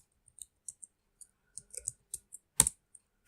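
Keys on a computer keyboard click in short irregular bursts as Linux commands are entered, close and crisp against near silence, with one louder keystroke near the end.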